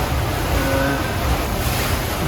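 Blustery wind buffets the microphone over steady surf and breaking waves on the open sea aboard the sailboat SV Knot So Bad, a continuous loud rush with no voices.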